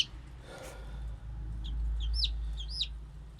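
Chickens and chicks in a barn give several short, high chirps and clucks toward the end, heard over a steady low hum.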